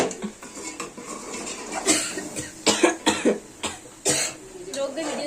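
Several short, sharp coughs break out in a home kitchen while chicken aloo gosht is being cooked. Metal cutlery and dishes clink nearby and people talk.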